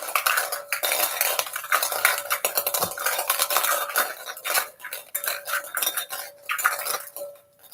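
Team draw tokens rattle and clatter as they are stirred around inside a container, a dense, continuous clinking and scraping with brief pauses, close and fairly loud with no voices.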